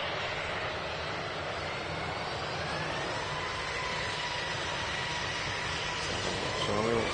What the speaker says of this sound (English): That Ryanair's on its way to Budapest.